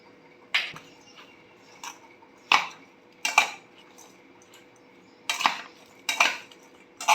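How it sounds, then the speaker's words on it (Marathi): A spoon stirring raw mango pickle in a bowl, with a spoonful of hand-pounded spice just added, gives a few sharp clinks and scrapes against the bowl, spaced irregularly over a faint quiet background, with no talking. "लोणचं एकत्र करून घेते आहे"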